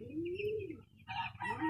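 Chickens in a backyard coop give a drawn-out crowing call followed by clucks, close and fairly quiet.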